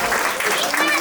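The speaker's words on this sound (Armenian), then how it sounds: "Եկեք մի հատ մեր նվագողներին ծափարենք" Audience at an Armenian wedding clapping for the musicians, a short burst of dense applause with voices mixed in, fairly loud.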